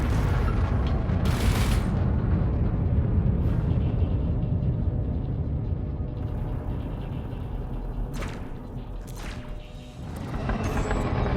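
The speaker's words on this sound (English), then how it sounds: "constant barrage of multi-cannon fire drops them again" Sustained loud rumbling barrage of multi-cannon fire pounding ship shields in the space combat game Elite: Dangerous, with dense booming impacts and sharp crash bursts throughout, no talking.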